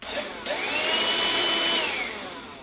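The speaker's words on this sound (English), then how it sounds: "It's a pretty loud vacuum, but it's perfectly fine if it's gonna pick up the mess" A BLACK+DECKER Dustbuster handheld vacuum whirs up and runs loud and steady, a high motor whine holding for a couple of seconds before easing off slightly.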